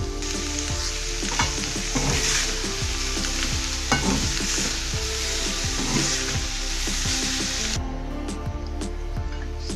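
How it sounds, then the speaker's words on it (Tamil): Leftover cooked rice stir-fried in a pan with fried onion and green chili, a steady sizzle broken by repeated scraping and stirring strokes, close up; the sizzle drops off near the end. "இப்போ நம்ம புளிஞ்சு எடுத்து வச்சுருக்கிற சாதத்தை இதில் போட்டு ஃப்ரை பண்ணிக்கலாம்."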